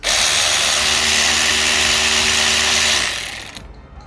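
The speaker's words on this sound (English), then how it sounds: "now just whiz them off with the electric ratchet" A cordless electric ratchet whines loudly and steadily at close range for about three seconds, spinning out multi-spline bolts during a turbo replacement on a 2015 Skoda Rapid, then winds down and stops.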